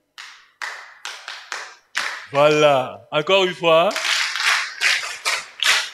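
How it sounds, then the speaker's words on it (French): Children clap together at a Sunday school gathering in a church setting, with several sharp separate claps giving way to a steady stream of quick rhythmic claps, while an adult speaks over them and calls for the group to go again. "C'est comme ça qu'on applaudit à l'école dimanche."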